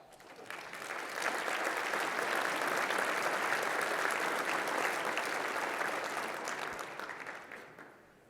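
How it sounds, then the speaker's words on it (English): Sustained audience applause at a Navy League luncheon fills the room, building quickly to a steady, dense clatter of many hands and tapering off near the end, with no talk over it. "let's give all of ourselves a round of applause"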